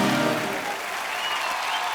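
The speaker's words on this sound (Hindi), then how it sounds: "जोरदार तालियां एक बार कनिका कपूर के लिए।" Loud, steady applause from a TV comedy show's studio audience fills the whole stretch, dense clapping with a little crowd noise and no pauses.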